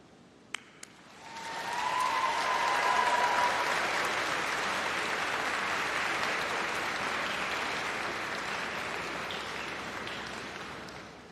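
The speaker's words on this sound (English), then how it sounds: "please could you give an enormous cheer and round of support and applause for your supporters, your friends and your family" Loud sustained applause and cheering from a graduation ceremony audience swells up after a brief quiet start, holding steady as a dense wash of clapping before easing slightly toward the end.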